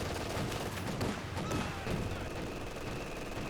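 Gunfire from a Company of Heroes 2 match rattles on in a dense, continuous crackle of overlapping rifle and machine-gun bursts at moderate level, with no talk over it.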